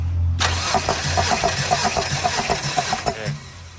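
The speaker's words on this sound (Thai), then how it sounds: "เดี๋ยวเรามาวัดกำลังอัดกันก่อนนะวัดกำลังอัดสูบหนึ่ง" A Tata CNG truck engine with a faltering, stumbling fault cranks on the starter during a cylinder compression test, a close, rhythmic chugging of even pulses for about three seconds before it stops.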